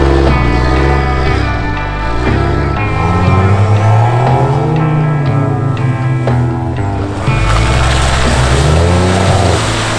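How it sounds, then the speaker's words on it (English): A Jeep Wrangler engine revs inside a tunnel, with a loud, continuous motor roar whose pitch swells and falls in repeated throttle sweeps for the whole stretch. "I love the sound of that engine."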